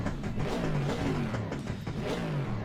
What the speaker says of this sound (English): Start the engine up. Sounds nice and meaty. Sounds like a proper V8.